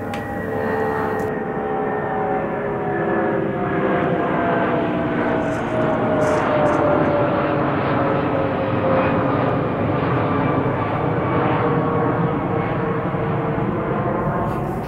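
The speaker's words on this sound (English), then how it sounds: "occasionally you do get a plane overhead" A propeller airplane drones overhead, its engine tone steady and loud, the pitch slowly sliding lower as it passes.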